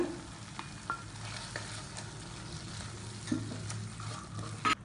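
Onion masala sautéing with yogurt in a pan makes a soft, even sizzle and bubbling hiss, with a few light stirring clicks, close but fairly quiet and with no talking.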